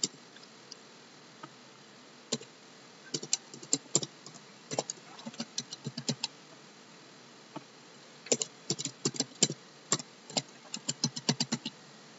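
Bursts of typing on a computer keyboard, quick clicky keystrokes in irregular clusters with short pauses, close and fairly quiet, no talking.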